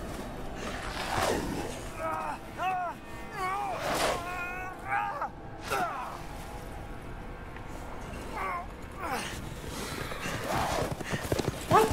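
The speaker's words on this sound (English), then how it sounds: "They got zombie horses?" Zombie horses in the Resident Evil 8 video game gallop with steady, loud clip-clop hooves and let out several wavering neighs and whinnies, with a player's voice speaking over the game sound.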